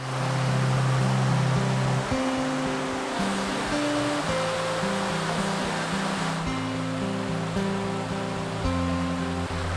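Steady loud rush of river water at a trail crossing in the Porcupine Mountains, a broad continuous flow heard close and alone with no talking.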